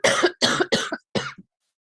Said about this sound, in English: I apologize for coughing, Your Honor, when I'm unmuted